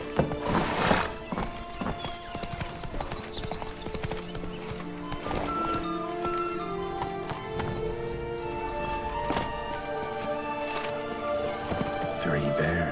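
Roach the horse in a video game, steady clip-clop of hooves with repeated neighs and whinnies over game music, someone speaking briefly over it.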